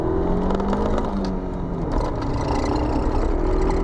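A Honda CRX launches hard with its tyres spinning and no traction control, the engine droning loud and steady from inside the cabin as revs climb and hold.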